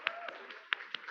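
Members of a church congregation clap their hands in welcome during a Sunday service, a short burst of scattered, uneven claps heard close over a light room murmur.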